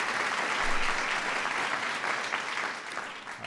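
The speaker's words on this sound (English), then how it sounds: "So please give them a round of applause." Sustained audience applause at the 2010 National Medal of Arts and National Humanities Medal ceremony: a dense, steady wash of many hands clapping that fills the full few seconds with no talking.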